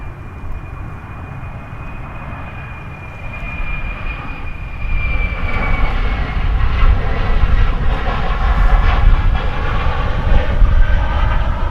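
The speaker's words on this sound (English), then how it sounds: "Let's watch a plane coming in." An American Airlines airliner on approach to land at DFW Airport, arriving from San Diego, roars steadily and loudly with a whining engine tone, the rumble swelling as it draws nearer.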